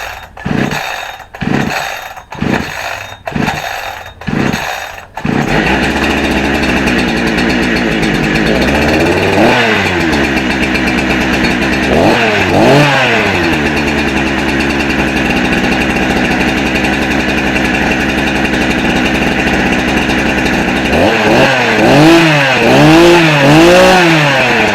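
A budget 72cc Temu chainsaw gets several sharp pull-start tugs, then catches and runs loud and close, its two-stroke engine idling with a few rising and falling revs and throttle blips.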